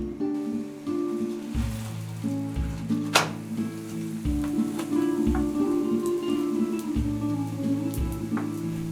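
Pancake dough cooking in butter in a pan over low heat gives a steady, close sizzle with soft crackles throughout, and faint music underneath.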